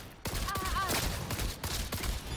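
Burst of gunfire from the video game Cyberpunk 2077 Phantom Liberty, several loud sharp cracks in quick succession over a dense, noisy game soundscape.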